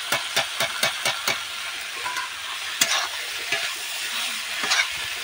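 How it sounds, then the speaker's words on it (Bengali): Boiled banana flower and potatoes get stir-fried in a pan, opening with a rapid series of sharp spatula knocks against the metal, then a lighter sizzle with occasional scrapes, close and moderately quiet, no voices. "এবার এগুলো ভালো করে কষিয়ে নেব।"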